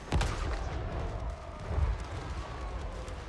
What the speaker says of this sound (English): did you see what the magma cannons did to that?